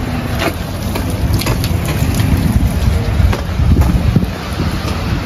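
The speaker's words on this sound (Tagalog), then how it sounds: "Pero medyo malakas yung ulan, no? Tuloy-tuloy yung ulan eh." Heavy, unbroken rain pours down during stormy weather under a tornado warning near Fort Saskatchewan, Canada, a loud, steady wash of noise that fills the whole stretch with no voices.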